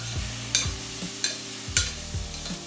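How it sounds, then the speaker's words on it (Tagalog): Onion and garlic sautéing in rendered chorizo fat, a soft steady sizzle under a few sharp clinks and scrapes of a utensil stirring in the pan, close up. "yan na rin yung magluluto or magigisa doon sa ating onion at saka ng garlic"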